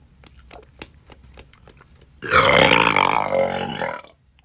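A long, loud, drawn-out burp after drinking Sprite in a challenge, lasting nearly two seconds alone after a stretch of faint clicks and mouth sounds.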